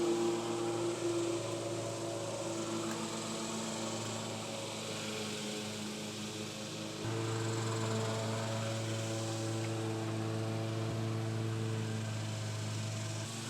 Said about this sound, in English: We actually have my neighbor getting his grass cut right now,